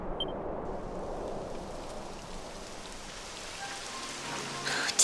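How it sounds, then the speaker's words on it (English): Steady rainfall in the Dragon Quest XI video game, a dense even hiss of drops that continues throughout with a faint rumble beneath, alone with no voices. "It would have to go and start raining, wouldn't it?"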